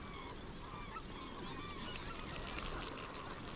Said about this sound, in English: The white-fronted geese are on the move.